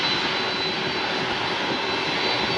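A Delta Boeing 767-300ER jet roars steadily at San Juan airport, its engines producing a loud, constant wash of broadband noise with a thin whine on top, no voices present.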